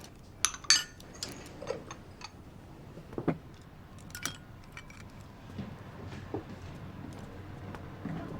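Bowls and chopsticks clink and tap during a home meal, scattered light ceramic knocks and clatter at an irregular pace, quiet and close in a calm room.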